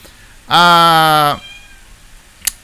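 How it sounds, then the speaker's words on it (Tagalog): A single loud, drawn-out cat meow, clear and close, lasting under a second, followed by quiet room tone and a brief click. "Ano ba yung ingay na 'yon? Nadidistract ako. Meow ng meow."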